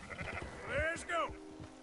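A flock of sheep bleats in Red Dead Redemption 2, two clear wavering bleats rising over a murmuring mix of other game sounds and a person talking underneath.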